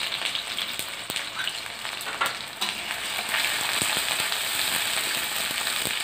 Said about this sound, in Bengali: তেলটা গরম হয়ে গেছে, দিয়ে দিলাম কুচি করে কেটে রাখা 3টি মাঝারি সাইজের পেঁয়াজ।